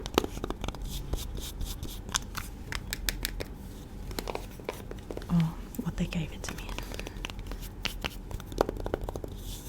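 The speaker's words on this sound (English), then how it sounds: "you can hear this little velvet box" Fingers tap and scratch a small velvet ring box up close, with dense soft scratches, clicks and light crinkles under quiet whispered talk.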